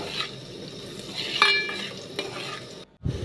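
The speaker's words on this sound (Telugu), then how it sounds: "ఇప్పుడు ఈ రెండు బాగా కలిసేటట్టు బాగా కలుపుకోవాలి." Onions frying with salt and a pinch of turmeric are stirred in a pan, a close, steady scraping sizzle with a brief clatter near the end and no talking.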